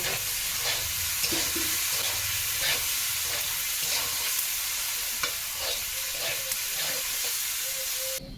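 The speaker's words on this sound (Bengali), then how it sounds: "আর এদিকে কড়াইতে আলু ভাজা হচ্ছে, উচ্ছে আলু ভাজা।" Bitter gourd and potato slices fry in a wok, a steady close sizzle broken by regular scraping stirs of a spatula, with no speech.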